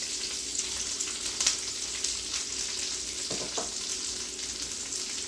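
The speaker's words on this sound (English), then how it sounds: "I'm gonna saute my onions." Onions with garlic sautéing in a pan, a steady close sizzle and crackle throughout with a soft knock or stir partway through.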